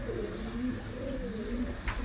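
A Sialkoti pigeon in Islamabad coos in soft, low, drawn-out rolling notes close by, with a brief higher chirp near the end.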